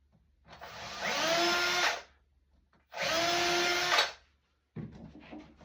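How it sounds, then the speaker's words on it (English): A power drill whirs in two sustained bursts of about a second each, separated by a short pause, then starts a third time at the end. "I'm only drilling through"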